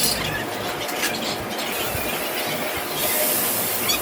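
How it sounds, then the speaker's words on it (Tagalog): Garlic and onion sizzle in hot cooking oil with a steady, bright hiss that grows slightly louder and sharper toward the end, heard alone. "lagyan na po natin ng mantika. Bawang po, sibuyas"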